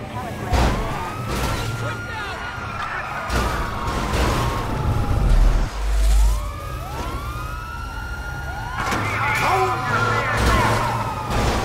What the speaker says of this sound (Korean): 경찰차가 일로 왔네. 이쪽으로.